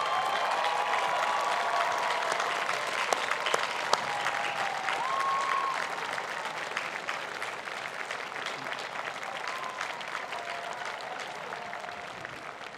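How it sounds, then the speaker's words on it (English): Graduates of the University of Virginia Class of 2021 applaud the audience at their final exercises, a dense, sustained crowd ovation that stays loud and steady throughout. "give a huge round of applause to those who helped you on this journey"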